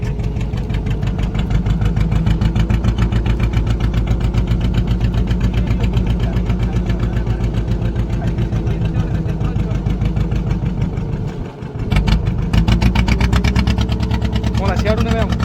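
A vehicle engine idles loud and close in a steady, throbbing rumble with a knocking pulse, briefly dipping and catching near the end before settling back into idle, with a voice underneath.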